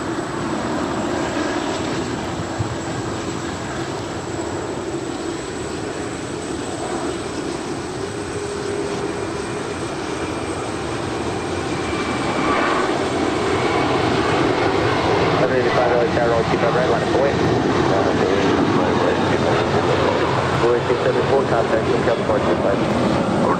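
Airliner taking off from runway 25 right at LAX, a steady distant jet engine roar that slowly swells louder, with talk running over it.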